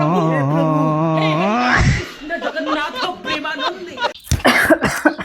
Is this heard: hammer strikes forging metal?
no